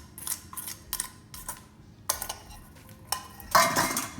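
Zucchini and other chopped vegetables tossed in a bowl give a series of irregular clattering, scraping knocks from a utensil against the dish, close up, ending with a louder rattle.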